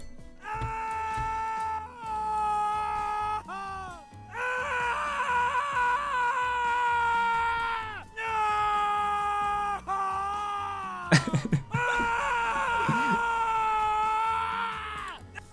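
A male survivor character, Dwight, in the video game Dead by Daylight screams and wails in anguish while hooked on a meat hook, with long strained cries broken by gasps and sharp voice breaks.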